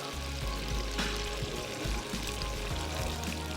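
Boiled mutton, cooked beforehand with garlic and ginger, is added to a hot pan and sets off a steady, close sizzle and frying hiss that lasts throughout.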